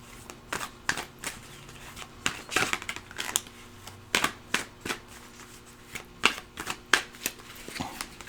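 Oracle cards being shuffled for a pick-a-card love reading: a run of quick papery riffles and snaps, close and fairly soft, in bursts with short pauses between them and no talking.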